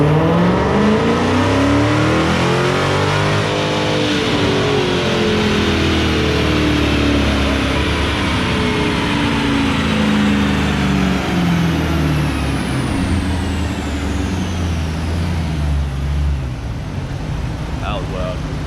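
Stock Dodge Challenger Hellcat roaring on a Mustang chassis dyno, its supercharged engine pulling hard and loud through a long rising rev sweep with a building whine, close and continuous, then easing off near the end.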